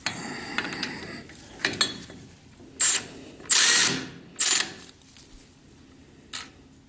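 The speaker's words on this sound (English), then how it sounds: "I have to get the flange side tightened now." A ratchet tool clicks in short bursts while the half-shaft flange on a 1976 Corvette restomod is tightened, several quick spurts separated by pauses, fairly close and with no talking.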